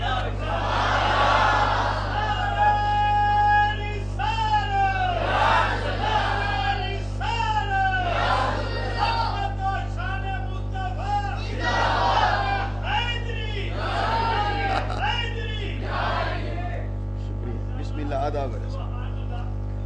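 At a religious gathering honoring the Prophet, a large crowd chants slogans in repeated loud, rhythmic bursts with a steady low hum underneath, and the roar rises and falls across the space.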